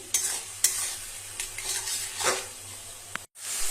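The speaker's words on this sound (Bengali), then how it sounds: "তো পেঁয়াজটা একটু ভাজা হবে এখনো হয়নি" Onions fry in a pan with a steady sizzle, broken by a few sharp stirring clinks of a utensil against the pan and a short gap near the end.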